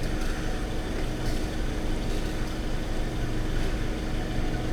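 An engine fitted with an AAE carburettor needle idles steadily while running far too rich, a continuous low rumbling drone at even loudness with no breaks.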